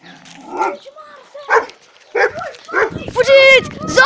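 A voice imitates a rabid zombie dog, giving a few rough, growling barks and yelps between bursts of excited talk, close and loud.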